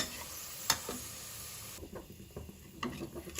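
Whole spices such as bay leaf, cloves, cinnamon, cumin, cardamom and pepper fry in hot oil for a chicken dum biryani, giving a soft, steady sizzle with faint stirring clicks and a sharp tap near the start.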